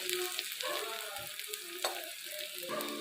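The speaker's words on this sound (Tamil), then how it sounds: "வெங்காயம் நல்லா வதங்கட்டும், நல்லா சிறக்க வதங்கினா தான் நல்லா வாசமாக இருக்கும்." Small onions sauté in a pan with a steady, close sizzle and frying crackle that runs on alone for about three seconds, with occasional faint stirring clinks.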